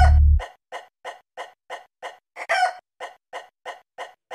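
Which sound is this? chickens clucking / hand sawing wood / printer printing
chickens clucking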